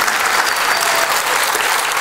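Loud, dense audience applause at a live stage show in a music hall, steady continuous clapping filling the whole moment with no pause.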